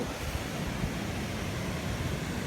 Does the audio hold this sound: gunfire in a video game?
no